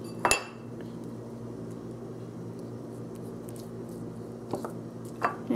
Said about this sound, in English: I'm just going to crack an egg, beat it all up